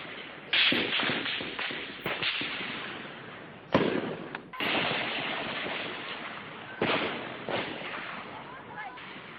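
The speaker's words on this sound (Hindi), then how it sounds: "ऑटोमेटिक राइफलों से यहां फायरिंग हो रही है।" Bursts of automatic rifle and light machine gun fire crackle in several long volleys separated by brief gaps, loud and sharp, with a voice faintly underneath, during a Naxal attack in a Chhattisgarh forest.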